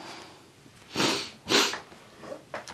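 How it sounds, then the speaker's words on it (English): Two quick, breathy sniffles close to the microphone, followed by a fainter third, with a quiet room in between. "Excuse me, sniffling."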